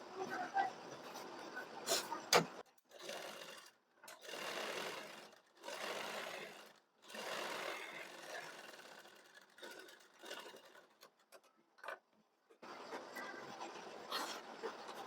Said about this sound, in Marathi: आता इथे बघा आता आपल्याला दाब शिलाई द्यायची